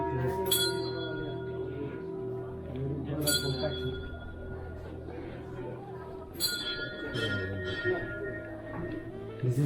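A temple bell at a prayer wheel in Kathmandu rings in three bright, clanging strikes, each with a lingering metallic ring, over a busy background of murmuring voices and street noise.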